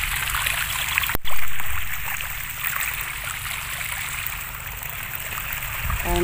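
Water flowing from a deep well pump, a steady rushing and trickling stream broken by one sharp knock early on, continuous and fairly close throughout.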